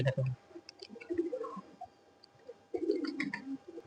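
Pigeons coo softly in low, rolling bursts, with quiet gaps between calls and faint background ambience.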